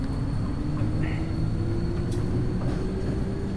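A tram running in a city transport simulator game, a steady low rumble and rolling hum with faint squeaks, continuous and close throughout.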